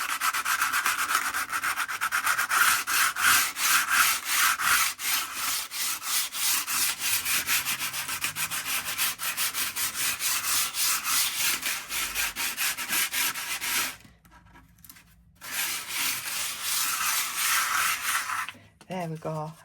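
Sandpaper rubs gently over decoupage layers in rapid, even back-and-forth strokes, close and clear, pausing briefly near the end before resuming.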